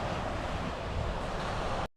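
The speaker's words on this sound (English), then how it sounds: "Listen to the ocean." Ocean surf rolls along the shore beside a coastal trail at Kiptopeke State Park, Virginia, making a steady broadband roar mixed with wind. It cuts off briefly near the end.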